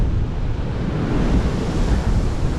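Roaring storm wind and crashing sea waves on a Crimean beach, a dense continuous rumble with heavy wind buffeting the microphone, loud and unbroken throughout.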